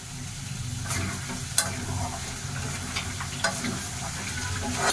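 Greens and chicken frying in a pan on a gas stove, a steady close sizzle with occasional stirring scrapes and light clicks throughout.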